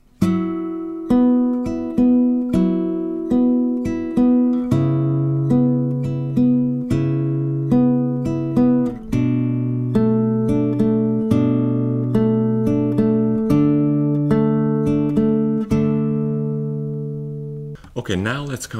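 Acoustic guitar picks through a simple fingerstyle version of a song at a slower pace, each plucked note and chord ringing out distinctly and close, with no talking, ending in a short burst of handling noise.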